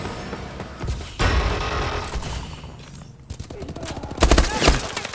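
Gunfire in Call of Duty: Advanced Warfare ranked Demolition match, dense bursts of rapid shots with a loud volley near the end, under a voice talking.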